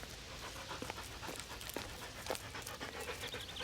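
Dogs pant close by in quick, rhythmic breathy puffs, fairly soft, running steadily through the moment with no speech.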